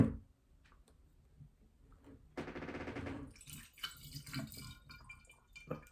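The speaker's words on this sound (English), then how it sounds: "That's the first pour into that bottle." Sazerac rye whiskey is poured into a glass bottle, a close, quiet glugging trickle with rapid bubbly ticks in the middle, preceded and followed by soft clinks and handling noises.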